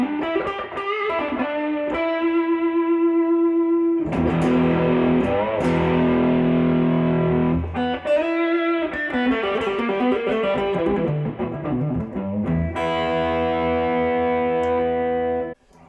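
A Fender Mexican Stratocaster with a hot rail bridge pickup plays through an MXR Super Badass Distortion pedal, giving loud, saturated chords and riffs with sustained ringing notes and brief pauses between phrases.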